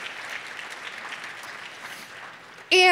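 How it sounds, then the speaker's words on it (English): Steady applause from a large conference audience at the ng-conf 2022 keynote, an even wash of many hands clapping for nearly three seconds before a loud, sudden sound cuts in at the end. "Give them a round of applause."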